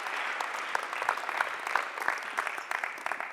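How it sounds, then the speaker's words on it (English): Continuous applause from a crowd at a basketball coaching clinic during a Christmas tournament, steady and fairly close, with a few sharper claps standing out from the mass. "Big applause for them."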